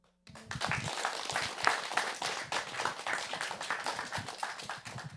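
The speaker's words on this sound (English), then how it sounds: "And another round of applause for our amazing digital navigator" Audience clapping at a community event breaks out suddenly and holds steady as a dense, fairly close round of applause for several seconds.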